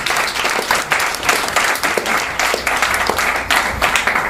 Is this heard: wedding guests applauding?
yes